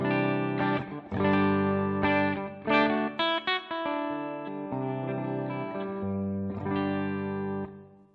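A clean electric guitar played through a Fender Hot Rod DeVille amp into a Torpedo Captor X, with a little room reverb: ringing sustained chords and a few quick plucked notes, clear and up front, with no talking.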